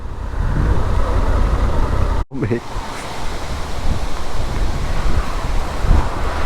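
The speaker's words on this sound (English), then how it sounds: "How windy!" Strong gusting wind roars loud and steady across the microphone during a storm at a motorcycle touring camp in Poland, with a short break near the middle, and voices are heard faintly beneath it.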